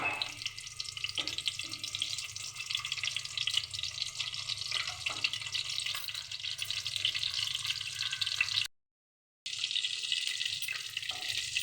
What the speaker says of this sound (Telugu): ఆయిల్ కాగిందండి. ఇప్పుడు ఎండు చేపల్ని వేపేసుకుందామండి.